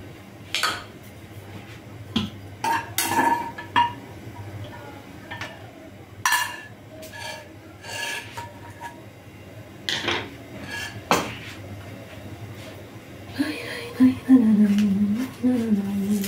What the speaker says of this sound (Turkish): sucuğu doğrayayım